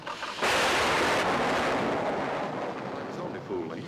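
A deep rumble of thunder from a lightning storm breaks in suddenly and rolls on loud and broad, slowly fading over several seconds with no voices over it.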